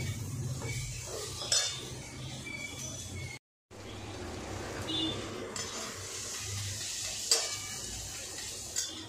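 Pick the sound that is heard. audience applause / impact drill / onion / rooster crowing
onion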